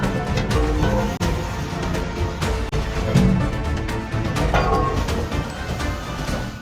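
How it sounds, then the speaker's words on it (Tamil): A ship's anchor breaks loose with a loud, dense roar of grinding, rattling metal, sharp cracks and snaps punctuating the continuous clatter, close and overwhelming throughout. "ஒரு கப்பல்ல இருக்கிற ஆங்கர் உடையும் போது இந்த மாதிரி தான் சவுண்ட் கேட்கும்"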